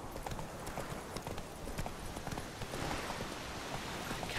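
Horse hooves clip-clop in the video game The Witcher 3: Wild Hunt, a quick, steady run of hoofbeats over soft ambient noise.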